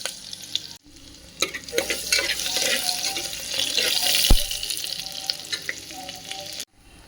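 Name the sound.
garlic, ginger and cumin paste frying in hot oil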